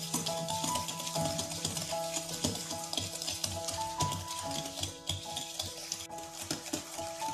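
Butter and sugar beaten together in a bowl for a homemade honey sponge cake batter, a steady close scraping and stirring with small utensil clinks running throughout.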